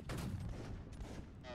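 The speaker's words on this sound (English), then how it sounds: "Take aim, hold down, by the way. And fire at will." A musket volley fired by a formed line of soldiers in a video game battle, heard as a brief, rumbling crackle of many shots that is fairly faint.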